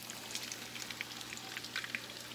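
Banana and pineapple eggrolls frying in hot oil, a soft, steady sizzle with scattered faint pops, close but quiet and without talk.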